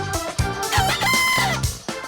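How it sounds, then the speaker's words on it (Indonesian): A Bekisar chicken crows loudly and close by, a long, sustained, melodious call punctuated by short clucks and thumps, with no talk over it. "Suara ayam Bekisar memang khas"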